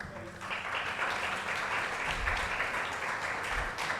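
An audience at an open-mic poetry and awards event breaks into applause, a sustained wash of clapping that swells after a brief moment of quiet.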